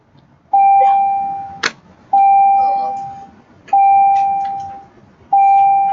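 A school bell rings in a classroom as a lesson ends, sounding four separate, evenly spaced, loud electronic tones, each lasting about a second and then fading. Faint background noise sits beneath the tones.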